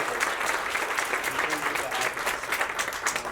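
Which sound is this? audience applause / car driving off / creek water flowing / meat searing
audience applause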